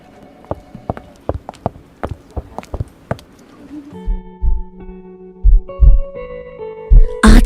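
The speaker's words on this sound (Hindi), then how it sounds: "आज सालों बाद मैंने साहबजादा की धड़कनों को सुना है" Heartbeat sound effect: a rhythmic series of close, muffled thumps in pairs, followed by deeper sustained humming tones with more thuds, loud and with no voices.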